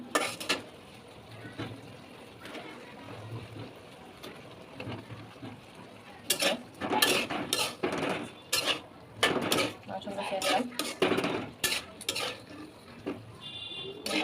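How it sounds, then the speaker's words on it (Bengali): Chicken pieces dropped into a pan of cooking spices, with scraping stirs, clinks of a utensil against the pot and bursts of sizzling, mostly in the second half, while a person talks quietly. "এখন আমি মাংসগুলো ছেড়ে দেবো"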